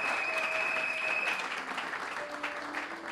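Church congregation clapping to praise the Lord, steady sustained applause filling the room with faint voices mixed in.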